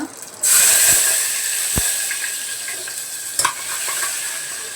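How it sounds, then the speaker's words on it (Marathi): Cumin seeds go into hot oil in a pan and at once give off a sudden bright hiss that settles into a steady sizzle, with a few sharp clinks of a utensil, close and loud. "मी दोन चमचे भरून जिरं घालते तेल छान तापून घेतले"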